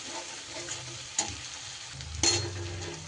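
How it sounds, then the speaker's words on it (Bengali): Tomato and spice masala with turmeric and Kashmiri chilli powder sautéed over low gas, a soft steady sizzle with two sharper spatula scrapes against the pan, close by. "মশলাটাকে কষাচ্ছি"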